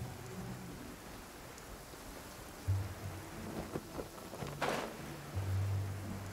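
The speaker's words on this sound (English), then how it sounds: "It's raining again?" Steady rain falls in the video game Genshin Impact, a continuous hiss of showers with a few low rumbles and swells of thunder, no voices.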